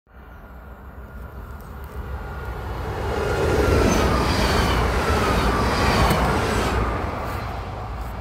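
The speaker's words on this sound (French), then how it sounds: "Ah, il y a le train qui va passer, je vais peut-être pouvoir le filmer." A train rumbles past nearby in Pérenchies, northern France, its roar swelling steadily and holding loud with a rattling, rushing rail noise and faint squeals.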